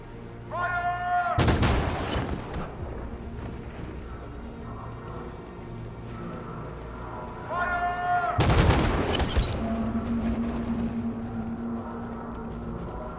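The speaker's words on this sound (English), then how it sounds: "Why aren't they shooting just at Marcus?" Gunfire in the video game Detroit: Become Human comes in two loud, sharp bursts several seconds apart, each preceded by a short rising tone, with low background rumble and some speech between them.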